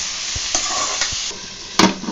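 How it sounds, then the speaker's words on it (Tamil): Ivy gourd (kovakka) sautéing in oil, a soft continuous sizzle with a few light stirring scrapes and one sharper clatter near the end, close and fairly quiet with no voices. "இதை நல்லா வதக்கிக்கலாம்."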